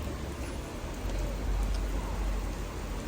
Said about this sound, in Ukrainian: бо дощара почалась. Різко, просто різко.